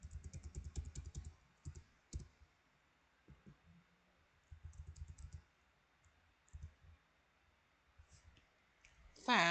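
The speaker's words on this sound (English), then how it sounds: "The fans don't want to see you typing." Typing on a computer keyboard comes in close, quick bursts of clacking keystrokes separated by short pauses, fairly quiet, with a brief louder noise at the very end.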